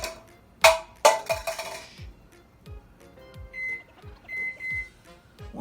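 A microwave oven being loaded and set for one minute to make a dessert: a few sharp clatters and clicks, then a series of short, quiet electronic beeps and faint ticking close by, with no talk.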